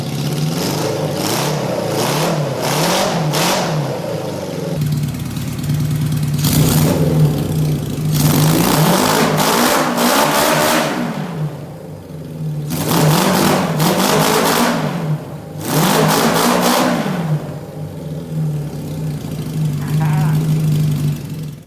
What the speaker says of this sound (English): Cylinder 3 is running a little cold. I'm not sure what's up with that, but it is running.